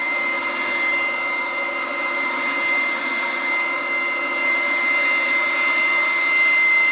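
Cordless LIGO 20V brushless leaf blower on turbo setting, a loud steady airy roar with a high whine running continuously, close by and without talk.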